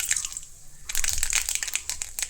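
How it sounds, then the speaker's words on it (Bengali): Mustard seeds dropped into hot oil in a blackened kadai used for frying fish, giving a burst of close crackling and popping that starts quietly and then stays busy, with no talking. "এর মধ্যে একটু সর্ষে দানা দিলাম"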